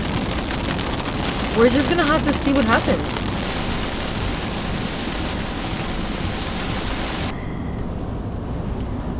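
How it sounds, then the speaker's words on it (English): Heavy rain pours steadily over a surface during a storm in Florida as someone speaks briefly; the downpour continues loud and constant throughout. "But that's pouring rain right there."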